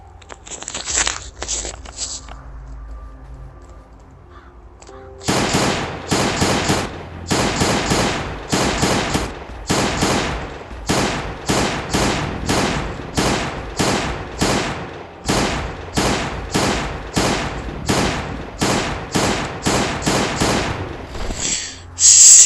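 Glock pistol gunfire in a zombie video game, loud and close: a few quick shots, a short pause, then a long string of rapid evenly spaced shots in bursts, with no talking.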